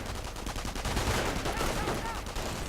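Machine gun fire in a strategy video game: a sustained stream of rapid, evenly spaced shots, loud and continuous for the whole stretch.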